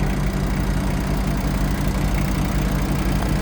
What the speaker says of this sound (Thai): ตัวเครื่องยนต์ก็ยังสตาร์ตติดง่ายอยู่นะครับ